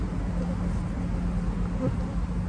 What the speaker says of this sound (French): on va mettre toutes les abeilles qui sont dans la ruchette